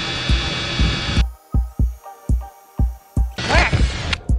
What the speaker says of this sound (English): Okay, you're gonna drill two, I'm gonna drill two.